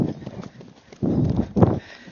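A Standardbred horse moving in a saddle gait: bursts of hoofbeats clip-clopping on the ground, close and moderately loud, with brief quieter gaps between them.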